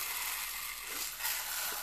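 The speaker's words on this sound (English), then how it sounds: "Do you have your rainmakers?" A rainmaker shaker pours out a continuous soft hiss of tumbling beads, steady and close, with a slight swell near the end.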